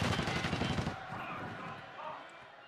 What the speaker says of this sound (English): he was up top shooting across